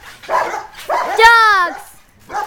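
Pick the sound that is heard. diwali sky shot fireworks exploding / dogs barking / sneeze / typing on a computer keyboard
dogs barking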